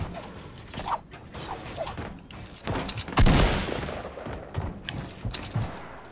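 Fortnite gunfire fired with the L2 spam technique, a burst of rapid shots loudest in the middle of the stretch, set among mechanical clicks and game noise.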